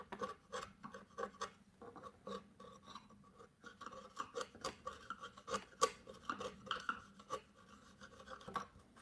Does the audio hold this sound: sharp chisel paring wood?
yes